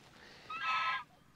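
A single goose honks once in a pasture, a fairly close, nasal call lasting about half a second over faint outdoor background.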